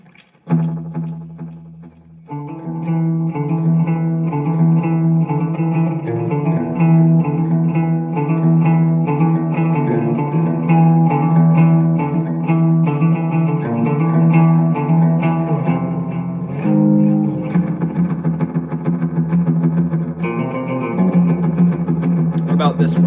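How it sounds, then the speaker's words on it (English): Sustained electric guitar notes with a washy, echoing tail play continuously, thick and resonant, with chords ringing into one another. "Reverb and delay."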